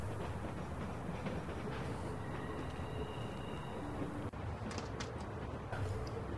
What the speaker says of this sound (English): You need to stop the train.